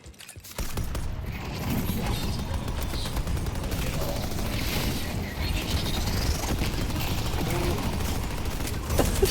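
Automated turrets firing in a video game, a dense continuous rattle of rapid gunfire that runs almost the whole time after a brief quiet start, loud and close.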